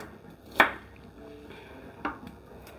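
A knife chops onion on a cutting board, giving two sharp, isolated knocks about a second and a half apart, close and moderately loud, with quiet kitchen ambience between them.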